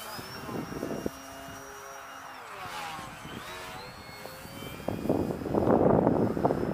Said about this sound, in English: Who says you can't fly the Tundra like a 3D plane